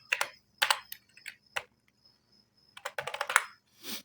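Close, quiet typing on a computer keyboard comes in uneven bursts of clicks with short pauses between words, and no one speaks.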